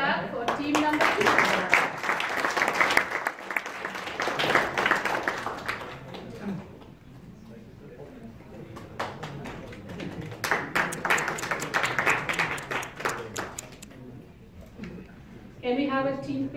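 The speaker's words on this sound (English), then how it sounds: "Come on, let's clap for team number two." A group claps for the winning team at a product launch event with a team competition, two bursts of brisk applause separated by a quieter lull, with people talking over and between the claps.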